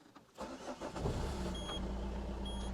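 A Citroën Berlingo's diesel engine cranks briefly and catches, then settles into a steady, rumbling idle, recorded close with no voices.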